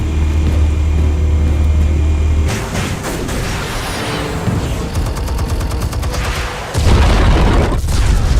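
Explosion in the video game Batman: The Telltale Series, a loud booming blast with heavy rumble and crackling debris, followed by a second deep surge of rumble near the end.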